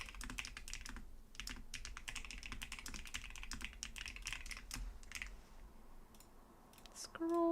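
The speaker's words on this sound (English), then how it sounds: "prepare for the clickety clackities." Quick, steady clicking of a computer keyboard as someone types continuously, soft and close, with a brief louder tonal sound at the very end.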